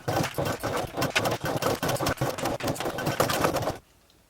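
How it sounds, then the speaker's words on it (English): A sewing machine top stitches along the edge of a travel bag handle, running in a steady fast mechanical chatter for several seconds up close before stopping abruptly. "we're going to top stitch along that side until we reach the opposite end of the handle"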